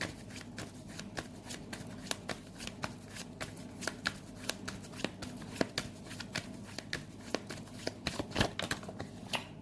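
Tarot cards being shuffled by hand, a steady run of soft riffling flicks and taps, close and fairly quiet, continuing without a break.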